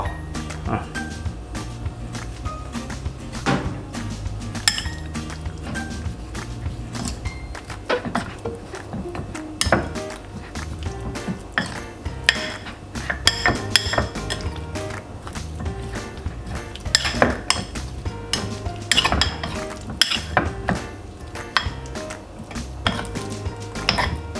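Chicken wings being tossed with flour in a bowl, with steady clattering, scraping and knocking of the bowl and utensil throughout, fairly loud and close, with some talk in between.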